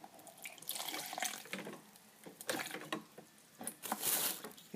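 Vinegar poured into a container in irregular splashing bursts, close and fairly quiet, with liquid trickling between pours.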